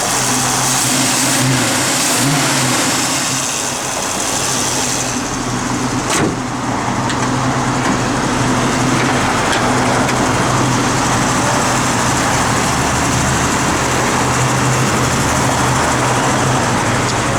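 The engine of a 1970 Ford Mustang Mach 1 with a stock rebuild runs steadily in a loud, continuous rumble that holds a constant level throughout, with no talking over it.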